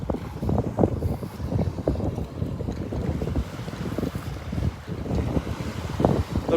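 Steady wind gusting along a Gulf beach at Delnor-Wiggins on a north breeze, a continuous low rumbling roar buffeting the microphone with surf washing underneath, no talking.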